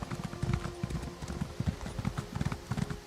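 Horse hooves clip-clop steadily in a fantasy video game, a brisk, even rhythm of close hoofbeats running throughout at moderate loudness.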